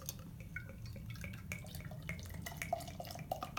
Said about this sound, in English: I always struggle to figure out how to pour these wacky growlers